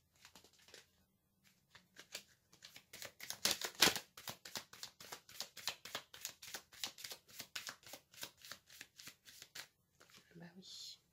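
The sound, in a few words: shuffling and drawing oracle cards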